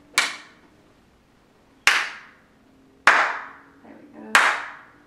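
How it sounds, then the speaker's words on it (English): Four crisp hand claps in a room, widely spaced and fairly loud, each one ringing off the walls in a short echoing tail. "Even the little claps are nice and crisp and echoing around the walls."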